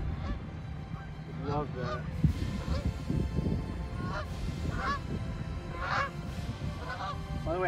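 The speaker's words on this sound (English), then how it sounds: "These birds, I think they're all flying south. I got a million of them. They're flying over the fairway." A large flock of geese flies over a golf course fairway, giving many repeated honking calls at a moderate distance over steady outdoor noise, with someone briefly speaking close by.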